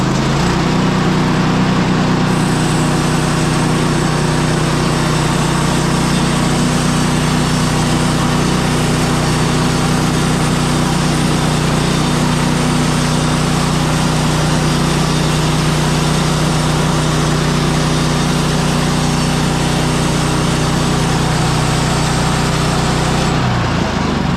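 A sawmill cuts through a log with an even, loud mechanical drone. The engine and blade hum holds steady for the whole stretch and winds down abruptly at the end.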